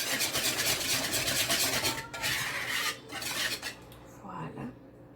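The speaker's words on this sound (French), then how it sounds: "Maintenant, tu brasses pour bien mélanger." Quiche ingredients get stirred in a bowl, with a close, steady scraping and clinking of a utensil against the dish that slows and fades toward the end; no one speaks.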